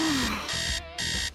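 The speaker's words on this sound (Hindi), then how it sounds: "लेकिन अलार्म ने सब कुछ बर्बाद कर दिया।" An alarm clock rings loudly in three steady bursts separated by short pauses, a bright electronic beeping that repeats in an even rhythm.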